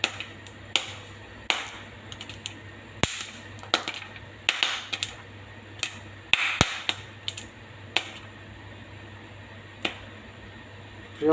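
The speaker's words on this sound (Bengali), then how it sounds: "আপনারা হয়তো পপকর্নের শব্দ শুনতে পাচ্ছেন" Popcorn kernels popping in a pan, sharp irregular pops scattered throughout, some close and loud, others fainter, over a low steady hum with no talking.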